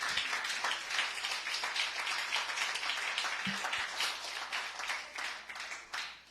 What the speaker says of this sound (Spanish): ¿Le puedes dar un aplauso a Dios, iglesia?